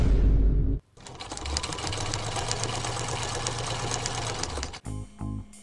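A tailor's sewing machine stitches a blouse in a steady, fast mechanical whir that runs for about four seconds. Voices can be heard before the machine starts, then it stops and a few short knocks follow.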